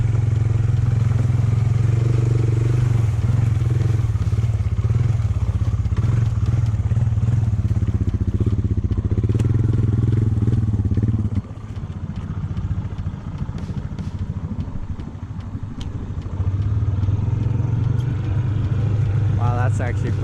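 A Honda 300 4x4 ATV engine drones loudly while riding, a steady low rumble that briefly drops off and then picks back up, with water and debris clattering and people talking over it.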